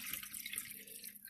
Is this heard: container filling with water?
yes